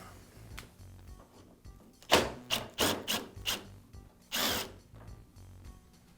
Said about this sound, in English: And I'll remove the screw on the other side.